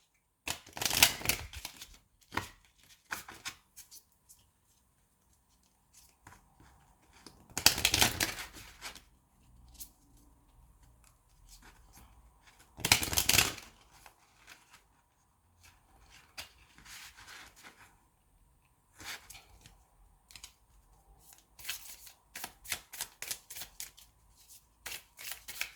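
Love oracle cards shuffled close by in repeated bursts of crisp riffling and flicking, with several louder bridged shuffles separated by quieter pauses and light handling sounds.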